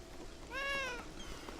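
A single clear cat meow rises and falls in the video game Beyond Eyes, near and moderately loud over a quiet background, followed by a softer trailing mew.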